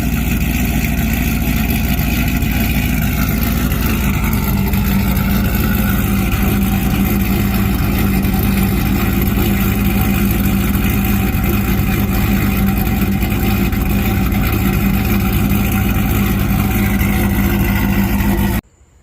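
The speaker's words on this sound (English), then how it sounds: "I hope you can hear me over this exhaust, because this is extremely loud." A loud, close exhaust on a Ram pickup truck with a Whipple supercharger rumbles steadily for nearly twenty seconds, a deep engine idle with a constant roar, then cuts off abruptly.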